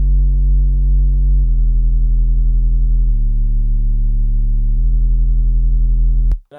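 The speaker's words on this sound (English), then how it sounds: "Then I have the sub bass," A deep sub bass plays sustained low tones, stepping slowly through the same notes as a triplet piano line. Each long, smooth note gives way to the next, loud and alone until a brief click at the end.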